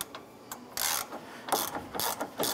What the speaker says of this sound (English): Loosen this upper bolt.